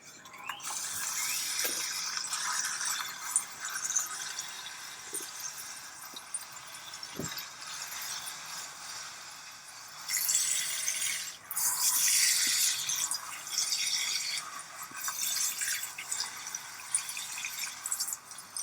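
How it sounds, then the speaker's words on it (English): Water pours from a watering can onto a houseplant indoors, a continuous close hiss and splash that swells louder in the middle stretch, with a few faint squeaks and drips and no talking. "That's me watering my plant."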